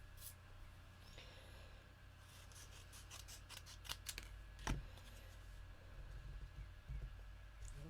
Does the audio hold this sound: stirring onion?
no